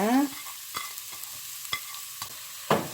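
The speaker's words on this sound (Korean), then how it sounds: "당근 볶겠습니다" Carrots stir-fried in a pan over high heat for japchae, with a few sharp scraping strokes of a spatula over a soft background, close and without talk.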